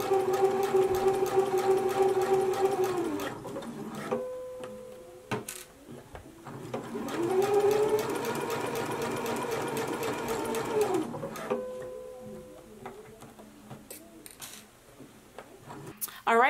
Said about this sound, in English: we can go to the sewing machine and we can stitch right along the edge of the pocket